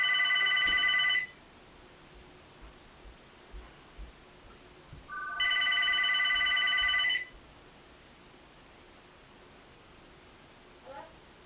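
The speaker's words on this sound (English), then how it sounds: "I'm sorry about the phone ringing again." A telephone rings indoors in two loud bursts of electronic trilling, the second longer, separated by a quiet stretch of room noise.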